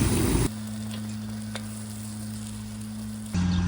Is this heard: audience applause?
no